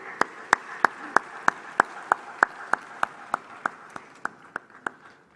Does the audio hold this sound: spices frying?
no